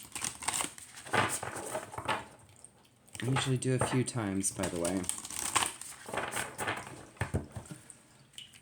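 A Rumi Oracle card deck side-shuffled close by, a crisp papery flutter repeated in bursts while a person talks over it.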